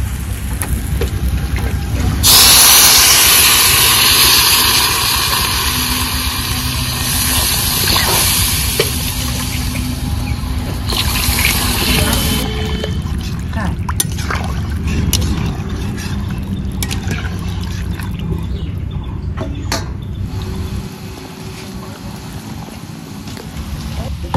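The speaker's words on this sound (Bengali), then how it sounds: "এবার দিয়ে দেব পরিমাণ মতো জল" Water is poured into a hot pan of fried taro being cooked with snakehead fish, giving a rushing hiss and sizzle that rises, fades and returns while the pan keeps bubbling steadily.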